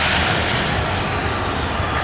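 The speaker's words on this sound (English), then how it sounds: "It's a small plane." A small regional airliner, an American Eagle flight at LAX's north runway, gives a steady broadband engine roar that holds at an even, fairly loud level throughout, with no talk.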